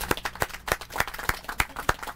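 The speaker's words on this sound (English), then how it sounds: "Let's give him a round of applause." A small group at a Cleveland city press conference applauds the new Director of Public Works, a sparse run of individual claps at an uneven rhythm, close and fairly soft.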